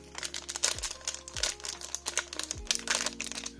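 Yu-Gi-Oh trading card booster pack wrapper crinkled and torn open up close, a continuous run of crisp crackling and ripping bursts with no talking.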